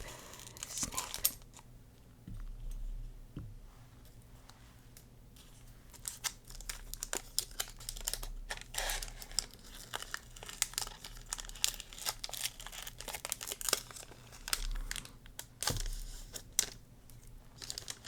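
A Pokemon trading card pack wrapper, Black Bolt White Flare, is snipped and opened up close, with quiet crinkling, rustling foil and small scissor snips in an irregular run throughout.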